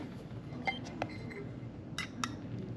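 Metal spoons clinking sharply against glass and dishes while measuring Miracle Whip mayonnaise in a kitchen, several separate bright chinks spread over a few seconds, close but fairly quiet.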